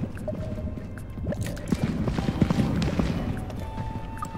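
Bubbling liquid in a dark underground setting of a video game, heard as a soft continuous stream of small drips and gurgles with scattered clicks, faint and steady throughout.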